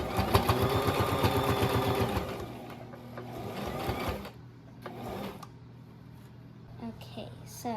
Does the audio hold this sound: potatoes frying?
no